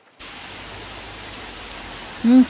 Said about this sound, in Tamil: மழை தூர ஆரம்பிக்குது